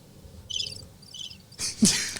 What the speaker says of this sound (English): Cricket's chirp.